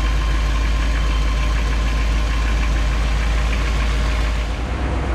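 Chevrolet Bel Air with a 348 V8 idling while warming up before an oil change, a loud, close, steady low rumble with a faint knocking texture and no talk.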